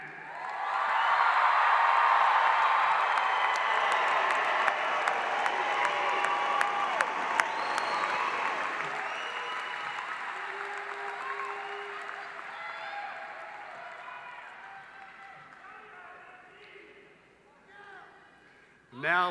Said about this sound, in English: How about another round of applause for our newest graduates?